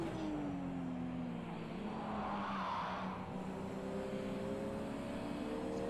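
A race car in Project Cars 2 holds a steady droning engine note that shifts in pitch as another car draws alongside and passes, with a whooshing swell midway and no talk.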